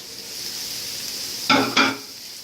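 A steady sizzle of mushrooms frying in a small pan, with two short louder stirring scrapes near the end.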